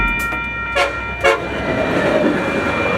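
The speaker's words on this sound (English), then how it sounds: "let's see a front runner." A FrontRunner commuter train passes with its horn sounding in two short blasts early on, followed by a steady rolling rush of the train going by.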